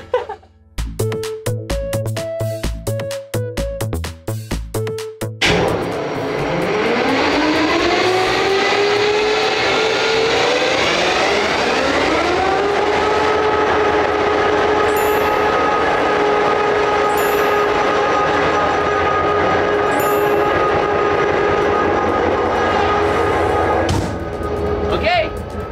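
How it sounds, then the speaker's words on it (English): A locomotive engine starts up, its roar swelling and rising in pitch before settling into a very loud, steady drone that fills the cab, following a brief stretch of music. "It gets very loud in here when we start up the engine."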